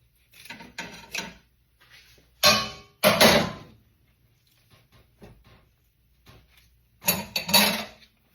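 A knife trims the ends off a hot pastel wrapped in banana leaf, giving a few separate crisp scraping cuts in short bursts with quiet gaps between them.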